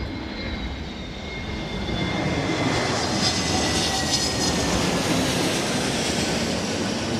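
An Airbus A380 airliner at London Heathrow Airport during a storm gives a loud, continuous jet engine roar with a rising whine, steady and fairly near, with no voices.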